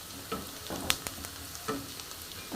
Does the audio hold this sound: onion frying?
yes